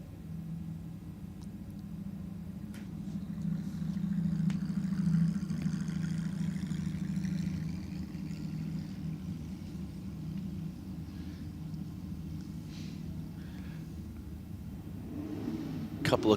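Two Holden Commodore VZ sedans at Sydney Dragway, heard as a steady low engine rumble and idle with a slight swell midway and a brief rise at the end, under faint background voices.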